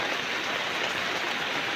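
Rain falls steadily outside a house in Ban Na Toei, Thailand, a dense, even hiss of drops on surfaces with no pauses and no voices.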